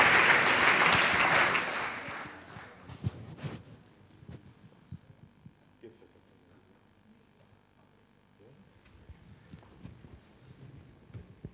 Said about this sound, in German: Ein Applaus bitte.